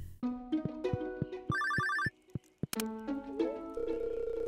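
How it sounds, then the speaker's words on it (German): A telephone rings in the video game Stardew Valley, a chiming electronic ring with rapid tonal pulses, set among soft game music notes and effects. "Oh, Moment, das Telefon."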